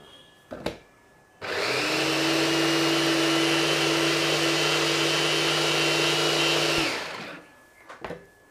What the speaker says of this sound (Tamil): முதல்ல நான் கொத்தமல்லி கட் பண்ணி காமிச்சிட்றேன்